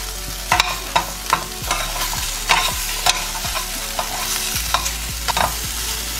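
Potatoes tossed with rock salt in a pan, stirred by a utensil that scrapes and clanks against the metal in repeated strokes, with a gentle sizzle running underneath, close and clear, no voices.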